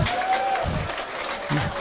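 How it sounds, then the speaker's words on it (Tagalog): Scattered audience applause in a hall during a marketing seminar talk, moderate and uneven with bursts of clapping rising and fading. "Yung iba pumalakpak na pero may halong galit"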